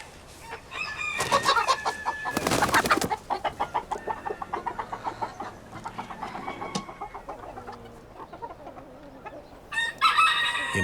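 A Bantam Sussex hen and a Bantam Sunheimer rooster: chickens clucking and a rooster crowing nearby, with repeated rhythmic clucks and a couple of loud crow bursts.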